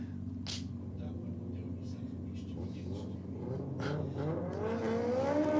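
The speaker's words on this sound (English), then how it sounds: "A little bit of tyre spin there from the Evo." A Mitsubishi Evo race car accelerates hard with some tyre spin, its engine note rising steadily in pitch and loudness toward the end, mixed with a steady rumble and a commentator talking over it.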